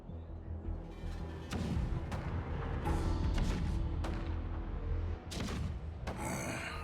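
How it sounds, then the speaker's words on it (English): Deep booming cannon fire from the video game Honkai: Star Rail, a dense low rumble with repeated heavy blasts and crackling impacts layered through a battle soundscape, loud and continuous throughout. "The rumble of the cannons."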